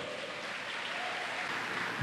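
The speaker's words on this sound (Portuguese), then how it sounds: "Você pode aplaudir a Jesus por isso?" Soft, even applause from a congress audience in a church gathering, a continuous distant wash of clapping with no break.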